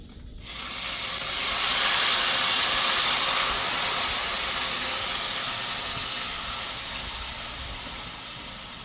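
A pork mixture for pork and plantain fajitas hits hot oil in a pan and breaks into a loud, steady sizzling hiss that swells quickly and then slowly eases.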